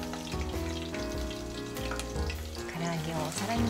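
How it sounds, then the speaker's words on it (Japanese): Finely shredded green shiso leaves are deep-fried in hot oil, giving a dense, steady sizzle and crackle that stays loud and close throughout. "最後に青じそを7、8枚を千切りしたものを素揚げして、"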